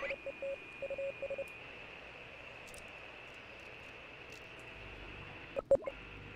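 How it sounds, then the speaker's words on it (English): Short beeping Morse code tones from a radio in the video game Oxenfree, over a steady radio hiss and hum, followed later by a couple of sharp static bursts. "that's Morse code"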